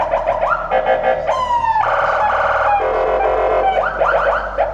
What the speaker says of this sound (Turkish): Yine siren sistemimizi yaptık.